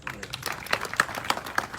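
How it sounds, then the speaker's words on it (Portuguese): Round of applause at a book launch in Bissau, a short burst of scattered clapping from a small audience, moderately faint with some crisp individual claps standing out. "A ele uma salva de palmas."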